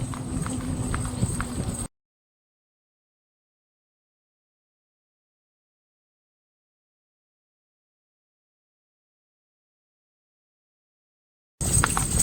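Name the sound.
horse hooves clip-clopping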